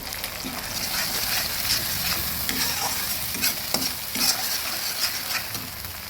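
Spiny gourd (kakrol) frying in a pan with poppy-seed, green chili and salt paste, stirred repeatedly: steady close sizzle broken by irregular scraping strokes of a spatula, with no talking.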